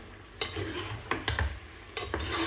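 Onions frying with smoked cartilage in a pan, a steady sizzle broken by several scraping stirs of a utensil against the pan at irregular intervals, close and fairly soft.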